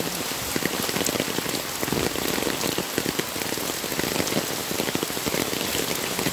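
Heavy rain falls on a street and an umbrella in a dense, constant hiss of drops, loud and close, with a patter of impacts that goes on without a break.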